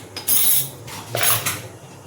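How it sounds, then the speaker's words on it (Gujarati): Mustard and cumin seeds drop into hot oil in a pan for a Gujarati vegetable dish, giving two bright crackling sizzle bursts with a short lull between them, close and moderately loud, with no talk. "તેલ ગરમ થઈ ગયું છે અને હવે થોડીક આપણે રાઈ જીરું ઉમેરી દેવાનું છે"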